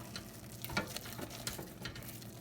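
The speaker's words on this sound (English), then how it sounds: "And stir it until it becomes a blob." Choux pastry dough is stirred in a pan, producing faint, scattered scraping and soft tapping sounds in a quiet kitchen.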